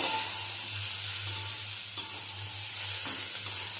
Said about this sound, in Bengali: টমেটো কুচি, লঙ্কা কুচি, আদা কুচি আর পেঁয়াজ কুচি, এটাও দিয়ে দেবো তেলের মধ্যে